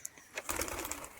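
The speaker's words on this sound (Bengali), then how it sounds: "দেখুন সুস্থ সবল পায়রা, আর এগুলো সেমি অ্যাডাল্ট পায়রা" Semi-adult pigeons give soft, low cooing calls, quiet and somewhat distant, across a short stretch of a dim background without voices.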